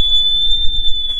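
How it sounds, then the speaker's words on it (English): A loud, steady high-pitched low air alarm from a self-contained breathing apparatus sounds continuously and unbroken, with no voices. "Listen for the activation of the low air alarm."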